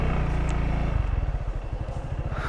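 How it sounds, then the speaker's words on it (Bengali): A Runner Bolt 165R motorcycle with an underbelly exhaust idles close by with a deep, even thumping beat that picks up into a faster, pulsing rev, loud and alone. "আন্ডারবেলি এক্সস্ট হতে এক্সস্ট সাউন্ডটা বেশ ভালো লাগতেছে, as well as the engine sound"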